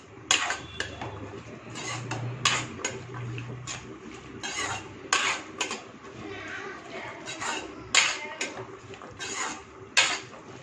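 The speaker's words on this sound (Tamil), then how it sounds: "இதை மூடி போட்டுருவோம்." A metal lid goes onto a cooking pot of chow chow sambar, with repeated close clanks and clinks of metal cookware and utensils at irregular intervals over a low background hum.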